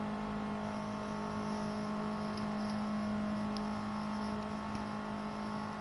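Subaru WRX engine in the racing game Gran Turismo 7, a steady sustained drone with a strong low hum and faint whine, held at a constant level without speech.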